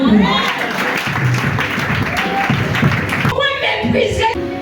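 A church congregation applauds and cheers for Jesus during a deliverance service, a dense, steady wash of clapping and crowd voices that runs throughout, with singing and speech mixed in.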